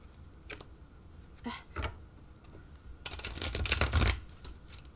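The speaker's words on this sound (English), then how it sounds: "let's just give this one good shuffle here" Quiet riffling of playing cards, a couple of short flicks followed by a longer, louder burst of cards being shuffled together close by.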